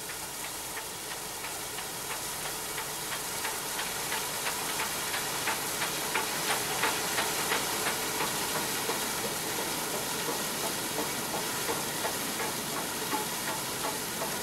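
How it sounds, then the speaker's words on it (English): Class 24 2-8-4 steam locomotive built by North British Locomotive Company working a train, a loud continuous roar and hiss with a faint rhythmic chuffing beat running through it. "Trains are usually worked by Class 24 284s, of which 100 were supplied by the North British Locomotive Company in Glasgow."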